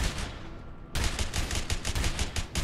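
Rapid gunfire from the video game A Way Out: a short quieter stretch, then a loud, dense burst of repeated shots in fast rhythm, close and sustained until the end.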